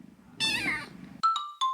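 A cat meows up close, one long drawn-out cry followed by two sharp, shorter meows, loud and clear with no talking.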